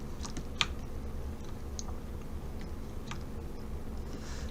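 Sparse computer keyboard and mouse clicks, close and fairly quiet, tap out an irregular rhythm over a low steady room hum while animation software is in use, with no talk.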